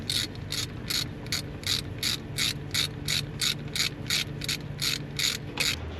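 A ratchet clicks in steady repeated bursts as it tightens the transmission pan drain plug on a Ram 3500 with a 68RFE automatic transmission, about fifteen close, even strokes with no talking.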